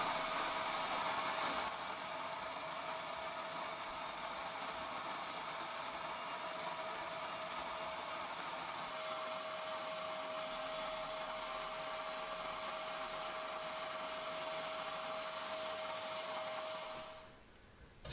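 A cheap HVLP paint sprayer laying a top coat onto primed components, a steady loud rushing hiss with a faint whine that runs continuously, then fades out at the end.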